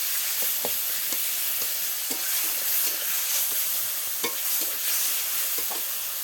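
Turmeric, chilli powder and tomato cook down in a pan for a fish curry, with a constant sizzle and repeated light scraping taps from stirring.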